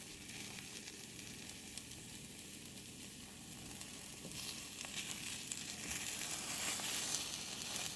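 Cheese omelet sizzles steadily in a ceramic frying pan, a soft continuous crackling hiss that grows a little louder toward the end, with no voices.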